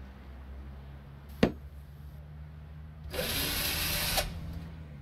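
An electric screwdriver whirs in a VR earthquake-safety game while fixing an L-shaped bracket to a bookshelf corner: a sharp click, then a steady buzzing run of about a second, fairly close and moderately loud.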